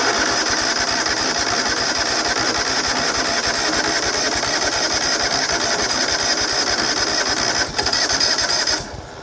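A John Deere LT180 lawn tractor engine cranks on a cold start, a fast, even chugging that runs close and loud for about nine seconds without catching, then cuts off near the end.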